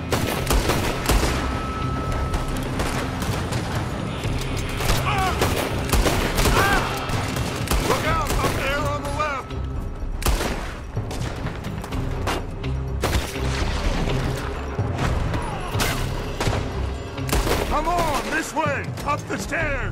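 Red Dead Redemption 2 gunfight with enemies firing from a building: rapid overlapping gunshots and bursts crack throughout, mixed with game music and shouted voices.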